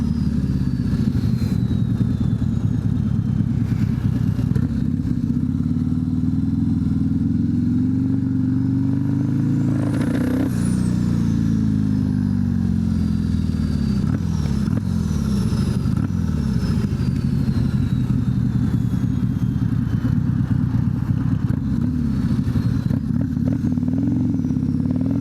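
A 2024 Harley-Davidson CVO ST fitted with a turbo idles and runs steadily up close, its low, throbbing engine note holding constant for the whole stretch with a brief rev swelling near the middle.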